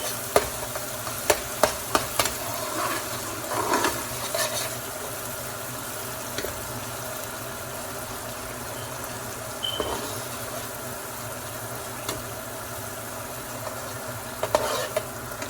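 Curry sauce with tomato paste, for curry potatoes and chickpeas, sizzles steadily in a pot while a spoon stirs it, with scattered scraping clicks and knocks over the constant frying hiss.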